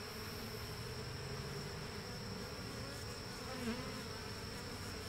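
Honeybees buzz continuously around an opened horizontal hive, a dense, steady drone close by with no pauses.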